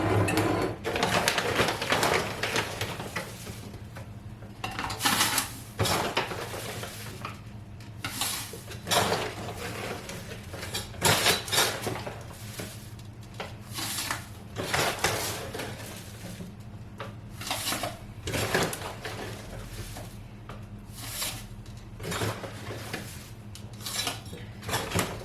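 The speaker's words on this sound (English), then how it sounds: "let's get back to loading up jars" Bulk salt and sugar being loaded into jars, with repeated clinks, scrapes and rattles of glass and utensils in irregular bursts, close and moderately loud over a low background hum, no talking.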